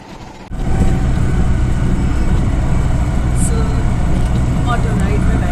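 An auto rickshaw engine drones steadily and loudly through a ride, a continuous low rumble that starts abruptly and then holds even, with voices mixed in.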